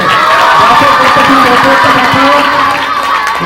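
An audience at a Mahalaya special programme with a short play cheers and claps in a dense, continuous roar of voices and hands, loud and steady throughout.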